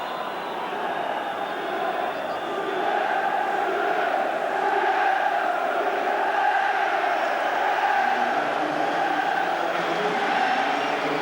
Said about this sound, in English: Applause for Souness